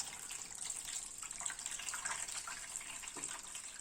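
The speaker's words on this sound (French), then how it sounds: "Je viens mettre de l'eau déjà bien chaude." Hot water poured from a container into a large baking dish for a French baked milk-and-egg custard, a faint, steady splashing trickle lasting a few seconds.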